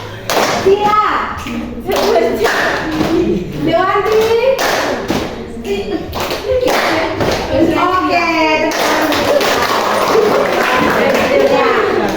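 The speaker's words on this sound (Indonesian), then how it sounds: "Terus, cepat terus tepuk." A group exercise in fast rhythmic hand clapping during a teacher training session in Alor, sharp claps in uneven bursts mixed with an instructor and participants talking over and between them.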